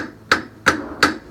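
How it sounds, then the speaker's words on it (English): Three sharp metal hammer blows strike rusted wheel nuts on an old engine, evenly spaced and loud, with no talking. "hammer it a little."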